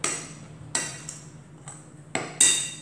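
A utensil clinks and taps against a bowl while flour, salt and sugar are mixed for taralli dough, giving a few sharp, irregular knocks close up with quiet gaps between.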